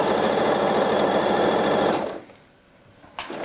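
A sewing machine runs forward along the seam of a wool coat, a loud, fast, even mechanical whirr for about two seconds before stopping, followed by a quiet pause and a small click.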